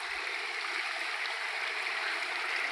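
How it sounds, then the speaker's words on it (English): Steady broadband rush of the New Savannah River flowing down from the hills of Canaan in the Jamaican mountains, an even, continuous stream sound with no talk over it. "This is the New Savannah River coming from the hills of Canaan."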